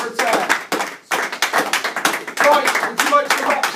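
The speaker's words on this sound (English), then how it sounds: "let's give him a round of applause" A small group applauds a winner in a room, giving a burst of close, uneven hand claps that pauses briefly and resumes for several seconds, with voices mixed in.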